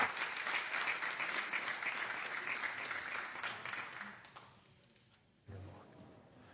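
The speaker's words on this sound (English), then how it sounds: "Let's give her a nice round of applause and welcome her to the State Senate" Round of applause from legislators and guests in a state senate chamber, steady and moderately distant, fading out after about four seconds and followed by a brief low thump.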